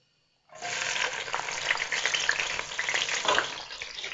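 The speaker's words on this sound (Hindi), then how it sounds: "तो हमने प्याज डाल दिया। तो अब हम इसको ब्राउन होने तक पकाएंगे।" Chopped onion hitting hot ghee in a kadai for matar pulao: silence, then a sudden burst of dense sizzling that keeps bubbling and crackling steadily, no talk.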